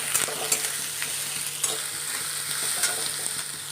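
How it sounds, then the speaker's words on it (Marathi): Curry leaves, chilies and onion roast in a pan, with a continuous crackling sizzle and quick scraping stirs of the spatula, close and fairly loud, no voices. "कढीपत्ता आणि मिरची हे चांगलं लाल भाजून घ्यायचं आहे आपल्याला कांदा"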